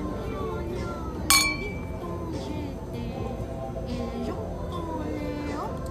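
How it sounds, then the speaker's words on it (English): Glasses clink once in a toast at a restaurant that doubles as a library, a single bright ring standing out over a steady background of chatter and room noise. "Let's cheers, girl."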